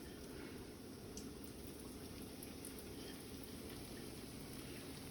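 Oysters deep frying in canola oil at about 350 degrees, a dense, steady crackling sizzle that fills the whole stretch without pause, close and consistent like heavy rain.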